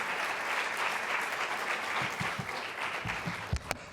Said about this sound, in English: If we could give another round of applause to Scot Nakagawa for being here.